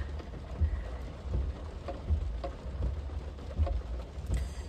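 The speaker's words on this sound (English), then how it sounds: "I sometimes like the rain. It's quite romantic." Steady rain falling in Shanghai, a dense wash of patter with faint irregular low thumps repeating every second or so, fairly quiet and continuous with no voices.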